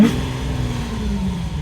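A 2015 Lamborghini Aventador's engine roars loudly and continuously up close, a deep sustained drone holding steady without a break.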